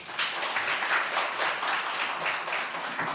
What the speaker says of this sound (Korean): 우리 나오실 때 귀한 축복의 박수로 환영하겠습니다